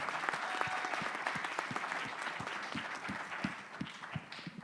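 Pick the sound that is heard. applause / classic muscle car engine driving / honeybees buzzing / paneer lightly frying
applause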